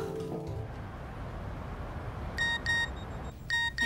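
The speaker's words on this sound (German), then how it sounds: "Eine SMS." A mobile phone chimes with an SMS text notification in a German crime drama: two short bright electronic tone bursts near the end, then a third, clear over a quiet room hum with no talking.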